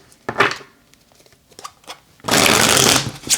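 A short run of tarot-card shuffling: a few brief papery flicks, then a louder, sustained riffle of cards close by, with no talking.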